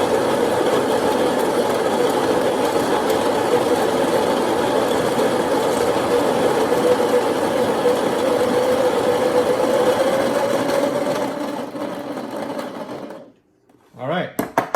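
A Baratza Maestro burr grinder grinds coffee beans coarse for cold brew, giving a steady close motor whir with gritty crunching that runs for about twelve seconds, then cuts off into a few brief clicks.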